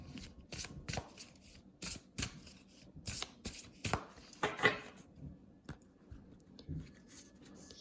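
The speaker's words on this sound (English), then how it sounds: "I'm going to pull one more oracle card from this deck here" Oracle cards being pulled and shuffled from a deck, a run of crisp, close card flicks and slides repeating in quick bursts, with no voices.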